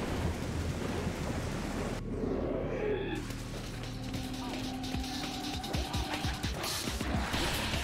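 A thunderstorm in Devil May Cry 4 rolls through with heavy rain and a big crash of thunder, then a lower rumble, and a voice talks over it.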